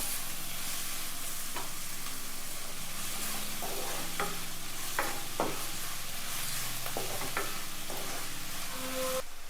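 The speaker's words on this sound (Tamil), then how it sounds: "நல்லா கோல்டன் ப்ரௌன் அளவுக்கு இந்த ஆனியனை நல்லா ஃப்ரை பண்ணிடுவோம்" Onions frying in oil for an egg gravy sizzle evenly and continuously up close, with periodic spatula knocks and stirring scrapes and no talk over them.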